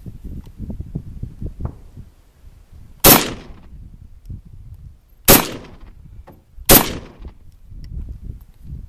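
An SKS rifle fires 7.62x39 rounds outdoors: three loud, sharp reports spaced a couple of seconds apart, each with a short echoing decay, over quiet low background noise.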